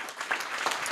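Political rally crowd applauds, a dense burst of scattered hand claps heard fairly close and steady for a short moment without speech.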